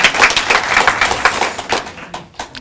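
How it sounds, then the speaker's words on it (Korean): A church congregation applauding during a Christmas service, a brief burst of scattered handclaps that thins out and fades within a few seconds. "하나님께 영광 박수 드리겠습니다"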